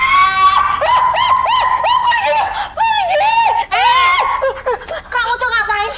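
A woman screams in shrill, wavering bursts, loud and close, with sharp gasping breaks between cries that run almost the whole stretch.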